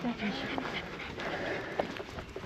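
A dog panting on an evening walk through vineyards, quick soft breaths heard close but faint beneath steady outdoor noise and a person talking.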